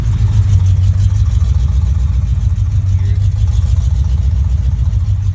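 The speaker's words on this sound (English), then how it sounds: "Look at that. Car's still running." A 1988 Mustang GT engine keeps idling after being switched off, with a low, constant hum that keeps running without pause, close by.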